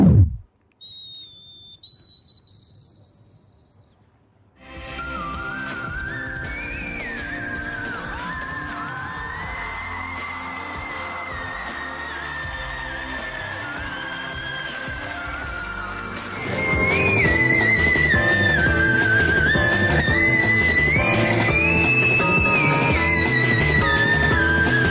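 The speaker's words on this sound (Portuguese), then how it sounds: "já passa a ser o registro de assobio, que realmente parece com o som de um assobio" A very high, piercing sung tone in the whistle register glides and warbles like a whistle, first thin and alone, then over loud music with backing instruments.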